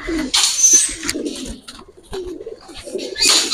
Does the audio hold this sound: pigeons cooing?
yes